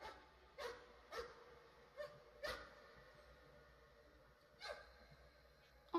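A dog in the horror video game Layers of Fear barks about six sharp, separate times at irregular intervals over a quiet, low ambient backdrop.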